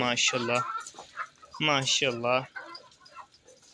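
Chickens cluck and squawk close by in short bursts, a few rough, harmonic calls with brief pauses between them.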